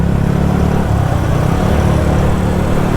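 A Yamaha FZS V3 motorcycle engine runs steadily while being ridden, a continuous low rumble that holds at a constant loud level with no pauses.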